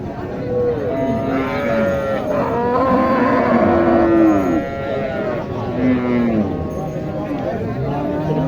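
A Sahiwal cow moos repeatedly at a busy cattle market, with long, low calls over a steady background of crowd chatter and nearby voices.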